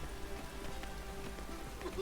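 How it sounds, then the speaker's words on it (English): Steady rain falls across an outdoor scene in The Witcher 3, a dense, even patter of drops hitting surfaces that continues without a break through the short stretch. "It's raining."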